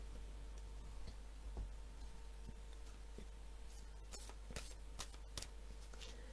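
Tarot cards are shuffled and laid down on a table in quiet, soft papery flicks and light taps, a few sharper snaps near the end, over a steady low hum with no talk.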